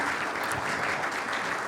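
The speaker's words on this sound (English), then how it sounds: "I'm going to ask you to hold your applause to the end here." Applause from a seated audience at a chamber of commerce legislative wrap-up, a steady continuous wash of many hands clapping, fairly loud and even throughout.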